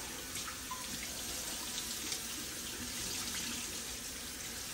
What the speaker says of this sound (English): Get all this stuff rinsed off.